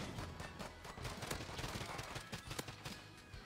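Faint, rapid gunfire crackles in a video game shooter, a dense run of sharp shots heard at a low level from a distance.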